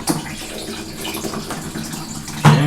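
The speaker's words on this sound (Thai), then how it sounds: "น้ำไหลเต็มสายครับ" Water flows steadily through a shaking siphon hose dipped into a bucket, a close, continuous trickling and gurgling, with a louder splash near the end.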